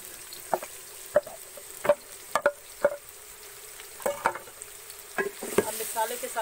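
Chopped ridge gourd hits fried tomatoes in a pan, giving a soft, steady sizzle broken by a series of sharp spatula taps and scrapes at irregular intervals.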